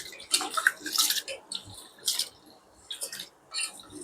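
Basmati rice being rinsed in water in a bowl, with irregular sloshing and splashing bursts and brief pauses between swirls, close and moderately loud.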